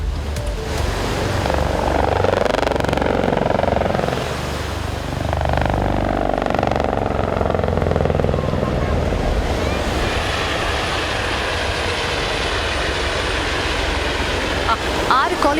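Roaring helicopter rotors and engines during an aerobatic display by Colibri helicopters over Ipanema beach in Rio de Janeiro, loud and close, rising and falling as they pass, with crowd noise and surf beneath.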